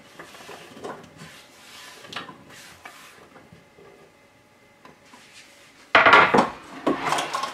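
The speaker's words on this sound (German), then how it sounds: "So, alles in einen Topf geben." Chopped strawberries and rhubarb tipped into a cooking pot: soft knocks and rubbing of a utensil at first, then a louder burst of tumbling, clattering fruit and pot scraping near the end, close by.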